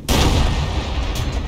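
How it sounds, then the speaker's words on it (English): A single loud gunshot aimed between a vehicle's armor plates in Unturned, a sharp close crack followed by a long booming decay. "How about I try to squeeze a shot in between the plates?"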